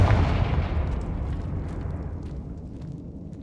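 The Confringo fire spell bursts in Hogwarts Legacy, a loud booming blast at the start that rumbles and fades away over a few seconds.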